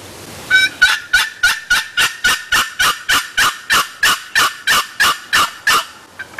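A box call imitating a turkey hen produces a quick run of about sixteen sharp, raspy yelps, evenly spaced and loud, rising steadily in a steady rhythm with no talking.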